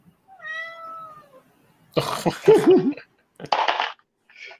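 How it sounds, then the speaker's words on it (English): A cat gives a drawn-out meow, close and clear, followed by a few short throaty chirps and sounds indoors, with quiet pauses in between. "That was my cat."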